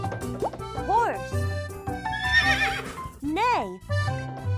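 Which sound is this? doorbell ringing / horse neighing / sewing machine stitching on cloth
horse neighing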